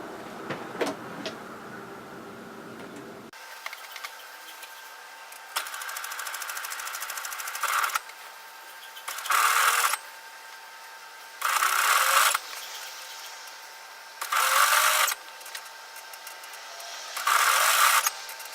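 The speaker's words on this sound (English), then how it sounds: "What I'm going to do is just simply one line of stitching through that overlocking line" A sewing machine stitches a single line along the overlocked seam of a pullover hoodie, running in five or six short steady whirring bursts separated by brief pauses, preceded by quieter handling noise.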